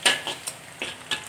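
Chicken feet stir-frying in soy sauce in a pan, with a spatula scraping and stirring in short, irregular strokes over a soft sizzle, close by and without talk.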